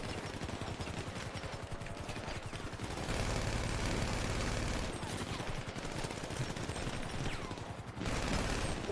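A gunfire exchange in a video game, heard as a dense, continuous rattle of rapid shots at moderate distance that swells and eases throughout.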